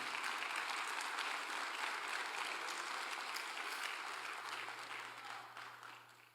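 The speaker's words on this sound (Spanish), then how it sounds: "Dele fuerte el aplauso" Applause during a church service: a dense, continuous wash of clapping from a congregation, sustained and fairly even before slowly tapering off toward the end.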